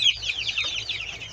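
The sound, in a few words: chickens clucking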